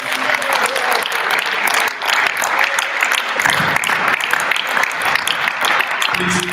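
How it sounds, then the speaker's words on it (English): Audience at a law week event applauding a speaker, loud continuous crowd clapping that holds steady for several seconds with a brief dip partway. "Please, let's give him another round of applause."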